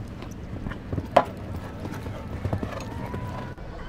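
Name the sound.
horse trotting, hooves clip-clopping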